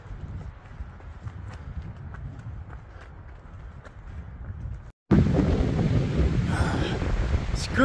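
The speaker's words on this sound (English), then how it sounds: "Screw you, cold wind." Cold wind gusts across a mountain hiking trail on the Continental Divide Trail, a low steady rumble against the microphone that suddenly cuts out, then returns much louder and harsher, roaring close and unbroken.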